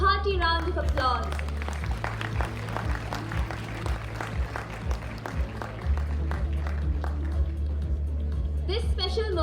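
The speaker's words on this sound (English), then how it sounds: "Give the graduates of Section C a hearty round of applause." An audience at a graduation ceremony claps for the graduates, a moderate, fairly thin patter of hands under a steady low hum, with voices and a bit of music nearby.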